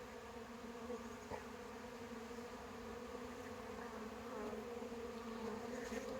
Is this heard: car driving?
no